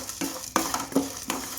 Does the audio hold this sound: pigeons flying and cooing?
no